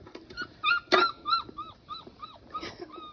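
Puppies whimper and yip on a rainy day, a string of short, high, rising cries repeating close by every half second or so, with one louder yelp near the start.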